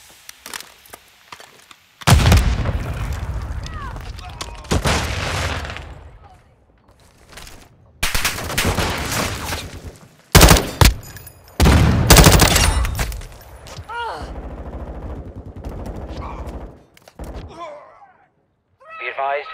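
Frag grenade blast and bursts of automatic gunfire in Call of Duty: Modern Warfare II, loud repeated explosions and rattling shots in clusters with quieter gaps between, mixed with game voices.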